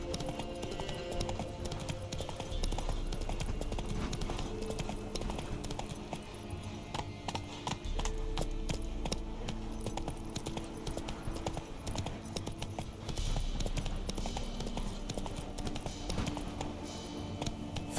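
Roach's hooves in The Witcher 3 clop in a steady, rhythmic galloping pattern that runs unbroken and close up for the whole stretch, with a faint game backdrop beneath.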